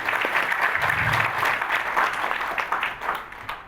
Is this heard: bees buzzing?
no